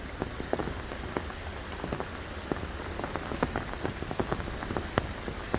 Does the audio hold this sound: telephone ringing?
no